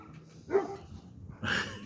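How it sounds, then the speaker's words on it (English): A dog chasing a squirrel gives two loud, sharp barks about a second apart, close by, with quieter background noise between them. "Get yourself a dog that takes after squirrels like that, protects his territory."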